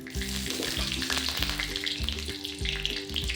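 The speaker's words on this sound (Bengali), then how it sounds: "এগুলো যখন একটু গরম হবে আমি ঢ্যাঁড়সগুলো দিয়ে ভেজে নেবো" Okra fries in hot oil in a pan for a vegetarian yogurt-okra dish, giving a continuous bright sizzle with a low, rhythmic bubbling pulse underneath, close and steady throughout, with no talking.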